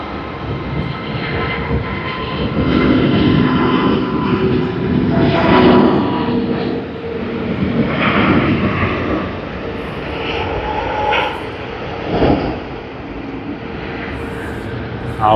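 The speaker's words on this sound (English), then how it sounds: "Singapore Airlines Airbus A380." A Singapore Airlines Airbus A380 jet roars loudly and steadily at Sydney Airport, its engine noise rising and swelling over the full span as the aircraft passes fairly close.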